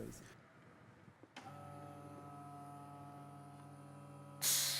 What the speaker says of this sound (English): Now let's switch on the pump and I will show you how it works.